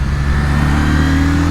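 A 2020 Kawasaki W800 motorcycle engine drones loudly and close while riding, holding a steady, even hum with a slight rise in pitch over a wash of wind noise.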